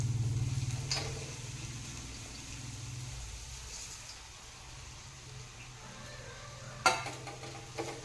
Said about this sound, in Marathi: मंद आच्यावर परतून घ्यायचं आहे